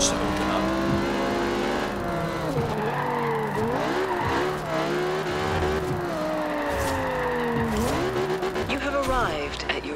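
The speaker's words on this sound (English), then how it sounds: "That scream, that kind of mean scream that it has. Especially in the higher RPM." A car engine in the Forza Horizon 2 racing game screams at high revs, its pitch climbing and dropping through gear changes with faint tire squeal, loud and continuous.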